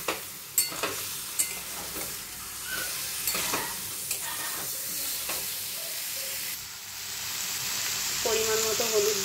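Spices sautéed with a little water in a pan give a soft, steady sizzle, with intermittent scrapes and knocks of a spoon stirring, a few sharp clicks early on and a louder hiss toward the end.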